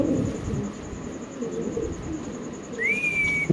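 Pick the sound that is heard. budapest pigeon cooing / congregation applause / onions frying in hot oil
budapest pigeon cooing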